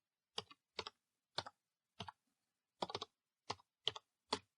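Keystrokes on a computer keyboard, about ten separate crisp clicks and short clusters spaced irregularly across a few seconds, close and quiet against silence.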